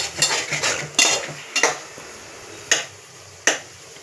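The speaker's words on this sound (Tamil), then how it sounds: "நல்லா ட்ரையாக வர வரைக்கும் இதுலேயே கலரிட்டே வரணும்." A utensil stirs chopped chow chow vegetable in a metal pan until it dries, making sharp clinks and scrapes at irregular intervals over a soft background sizzle, close and clear, with no voices.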